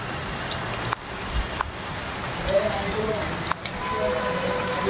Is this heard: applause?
no